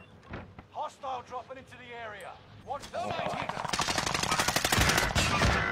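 Sniper rifle and rapid gunfire in Call of Duty: Warzone crackle through the second half as a sharp, dense barrage, after someone speaks in short phrases at the start.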